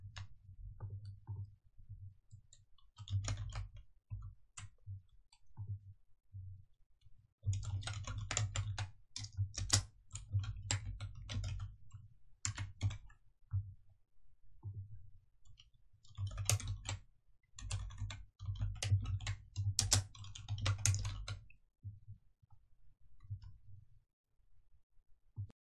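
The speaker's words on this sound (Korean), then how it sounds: "적용 후 내용 타이핑하십니다." Close, quiet typing on a computer keyboard while entering slide text in PowerPoint, with rapid bursts of clicking keys separated by brief pauses.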